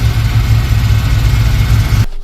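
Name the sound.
Subaru engine running in Volkswagen T3 van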